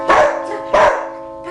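A dog barking on command during puppy training, two sharp barks close by with a short gap, then a faint start of a third.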